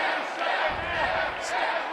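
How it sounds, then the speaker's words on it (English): A wrestling crowd at an indie show keeps up a dense, steady chant, a roar of massed voices with a brief higher shout near the middle. "Crowd clearly chanting for the staff here."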